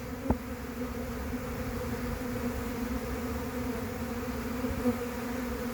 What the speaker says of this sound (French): On la voit même plus la ruche tellement il y a d'abeilles.